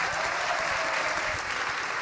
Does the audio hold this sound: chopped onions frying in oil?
no